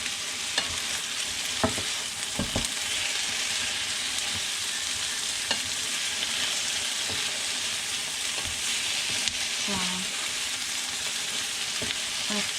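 Pelmeni filling stirred and fried in a pan, a constant close sizzle with scattered clicks and scrapes of a utensil against the pan.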